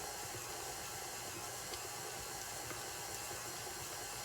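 A stand mixer fitted with a paddle attachment churns cookie dough for Black Forest cake cookies, giving a steady, even motor whir with a hissy, airy texture that holds constant and close throughout.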